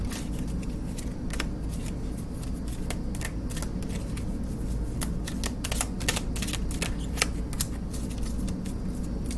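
Oracle cards being shuffled by hand, a steady papery riffling and sliding that runs throughout with repeated sharp snaps of cards, close and fairly quiet over a low background hum, with no talking.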